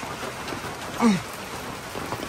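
Steady rain hisses throughout in Cameron Highlands with a brief tonal chirp near the middle and no voices.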